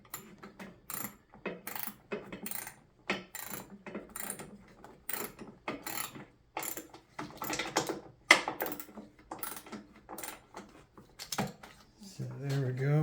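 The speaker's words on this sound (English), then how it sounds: "we've just about got all of our bolts tightened up here." A ratchet tightens the bolts on a strut bar with billet strut covers in a garage. Quick bursts of close, sharp clicking repeat in uneven runs, with short pauses between strokes.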